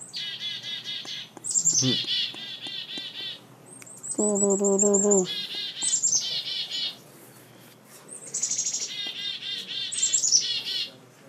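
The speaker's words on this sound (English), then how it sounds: "we got a black-capped chickadee, that's what that is" A black-capped chickadee calls repeatedly outdoors: clear, high whistled notes and chattering phrases, then a run of buzzy, harsher dee-dee notes, all moderately close with a soft background hiss.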